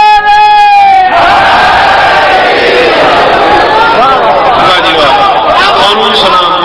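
A large crowd at a religious gathering shouts slogans in unison, loud and dense, after a single voice leads the call at the start.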